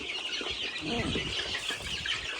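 Chickens cluck steadily up close amid dense, noisy farmyard background with ducks, with no clear speech over it.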